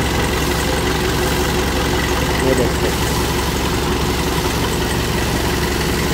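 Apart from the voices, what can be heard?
tractor engine idling while clutch is pressed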